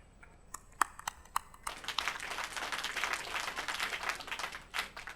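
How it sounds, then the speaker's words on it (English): An audience applauds at an infrastructure inauguration ceremony at Noida SEZ: a few scattered claps come first, then a full burst of sustained clapping from a crowd that tapers toward the end, with no talk. "तालियां देवियों सज्जनों रुकनी नहीं चाहिए।"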